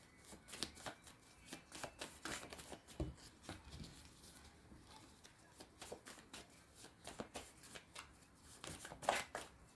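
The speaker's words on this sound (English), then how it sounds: "I'm just dropping cards." A tarot deck is shuffled by hand and cards are dropped, making soft, rapid riffling and flicking clicks. The sound is quiet, close and steady, with no talking.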